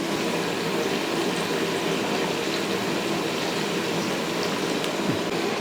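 Water pours steadily onto cashews and white poppy seeds in a kitchen, making a continuous even gushing hiss that runs unbroken from start to finish.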